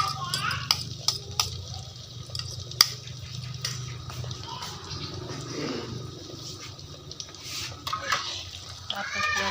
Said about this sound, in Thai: วันนี้จะมาทอดไข่เจียวหมูสับจ้า